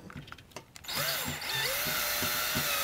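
A power drill tightens the screws holding ceiling fan blades. After a few soft taps, its motor whine starts close and loud and runs steadily to the end, its pitch shifting slightly as the screw snugs down.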